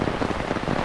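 Heavy rain from Hurricane Idalia pours down without a break, a dense, loud wash of drops striking surfaces nearby.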